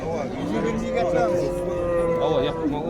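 A cow lows at a livestock bazaar, one long, loud, close moo that wavers in pitch, with faint crowd noise behind.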